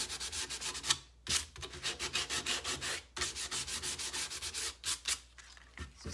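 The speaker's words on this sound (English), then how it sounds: "You could continue your sanding and really, see if you can see this, really get it rustic." A stained wooden board sign is sanded by hand to give it a rustic look, with close, rhythmic back-and-forth scrubbing strokes in quick bursts and short pauses between them.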